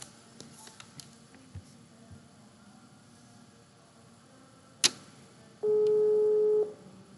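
A telephone tone sounds once as a steady electronic beep lasting about a second, just after a sharp click, against a quiet room background.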